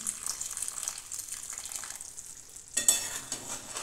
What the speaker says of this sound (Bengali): জলটা একেবারে কমে এসেছে, তাই এতে আমি একটু গরম জল দিয়ে দিচ্ছি